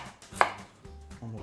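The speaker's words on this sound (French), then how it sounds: "On les épluche. Donc là, on les coupe" A knife chops peeled potatoes into pieces on a board for aligot, giving a few distinct cutting thuds with one sharp, louder strike, heard close up with no talking.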